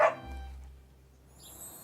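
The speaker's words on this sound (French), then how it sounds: "Oh! C'est le petit chien." A small cartoon dog from the French-language Caillou series lets out one short, high yip right at the start, followed by a low steady hum and faint background sound.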